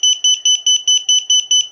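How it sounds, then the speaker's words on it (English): A rapid series of loud, high-pitched electronic beeps from a flight controller during an INAV firmware update, about eight per second, in a steady pulsing rhythm with nothing else audible. "beeping"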